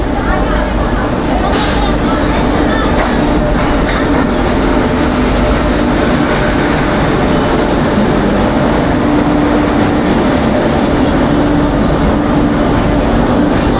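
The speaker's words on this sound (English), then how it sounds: "Alright, so we're here at the train station." Dense ambience at a Delhi train station, a loud constant wash of rail rumble and crowd noise with indistinct voices throughout and scattered sharp clanks.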